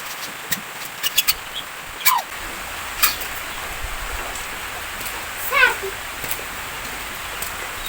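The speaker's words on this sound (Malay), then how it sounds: "cuaca hujan hari ini guys." Steady morning rain falls outdoors as a constant broadband hiss, with a few brief nearby clicks and knocks and short chirping sounds above it.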